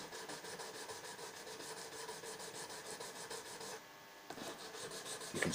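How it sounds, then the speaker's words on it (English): Sandpaper is rubbed in quick, even up-and-down strokes across a guitar body to remove deep scratches, making a faint, steady rasping with a short pause near the end. "all you're doing here is just running the sandpaper up and down that to start taking away most of the deeper scratches"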